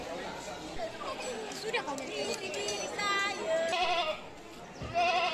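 Sacrificial goats bleat among the livestock gathered at a mosque for the Eid offering, several wavering calls rising over a steady murmur of crowd chatter.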